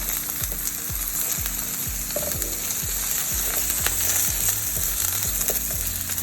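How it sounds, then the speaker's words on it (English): Breakfast burrito filling sizzles steadily in a hot pan with good browning, the contents tossed several times in a regular rhythm, each toss a low thump under the constant frying hiss. "I'm gonna just try to toss these a bit so we can get the other side to cook as well."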